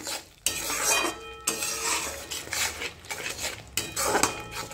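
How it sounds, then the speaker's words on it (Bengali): Besan-coated paneer stirred and fried in a pan, with repeated metallic scrapes and clinks of a spatula against the pan over a faint sizzle. "চলো, খুব ভালো করে নাড়িয়ে চাড়িয়ে কষে নিচ্ছি"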